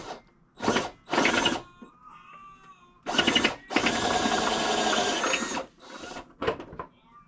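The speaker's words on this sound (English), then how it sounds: "Okay, so we've got our little hole drilled down there" A drill bores a 3/4 inch hole in a Mercedes-Benz ML430 in loud, grinding bursts, several short ones and one long sustained run of about two seconds, separated by quieter gaps.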